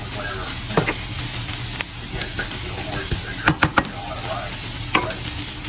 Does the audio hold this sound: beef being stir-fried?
yes